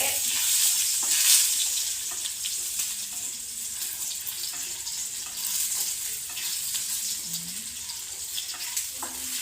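Garlic frying in hot oil in a home kitchen while banana heart is being cooked, giving a steady close sizzle with occasional stirring clinks and scrapes and no talking.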